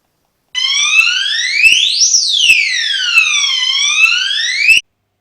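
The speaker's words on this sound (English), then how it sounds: "Someone set off the vibration alarm." An electronic vibration alarm in a nuclear bunker sweeps up and down in pitch in a loud, continuous wail, heard alone and close with sharp clicks breaking through.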